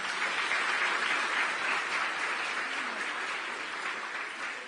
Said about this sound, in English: Another round of applause for our guest.